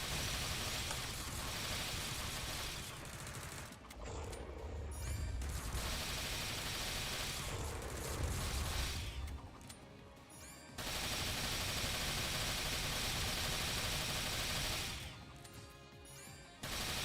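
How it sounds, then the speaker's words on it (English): Bursts of gunfire from the video game SAO Fractured Daydream, dense noisy volleys that cut off abruptly between stretches, loud and continuous with no talking. "Okay, I'll shoot at that head instead."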